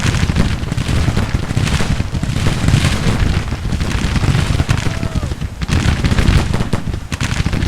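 Dense, continuous battlefield din in the Grand Tactician game: rolling cannon fire and musketry booms overlapping in a loud, constant roar with frequent sharp reports, no talk.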